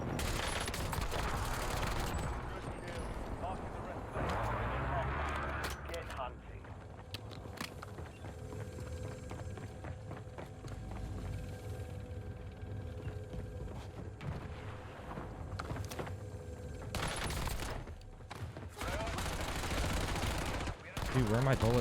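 Gunfire from a first-person shooter match, with bursts of rapid shots and clattering action noise, fairly quiet under game sound and a little talk.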